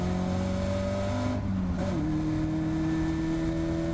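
Caterham Academy race car on track at Cadwell Park, engine droning loud and steady with pitch shifts as it changes gear heading toward the final corner, continuous and close.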